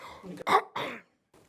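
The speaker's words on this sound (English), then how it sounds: "I'm just going to clear my throat." A short throat clearing, two rough bursts close to the microphone, followed by brief quiet and a faint trailing sound.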